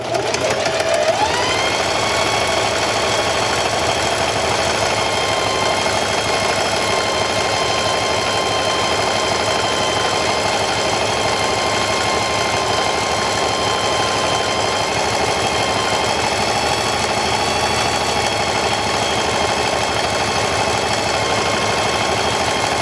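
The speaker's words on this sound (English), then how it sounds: "You need to back stitch on these type of machines." A home sewing machine back stitching a fitted skirt, running in a continuous steady mechanical whir and hum for a long stretch, close and loud with no talking.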